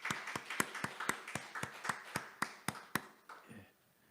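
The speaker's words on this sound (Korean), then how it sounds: "우리 전부 위를 바라보면서 하나님께 영광의 박수를 드리겠습니다" A church congregation clapping in unison, a steady run of about a dozen sharp, evenly spaced claps that end abruptly, fairly quiet and close, with no talk over them.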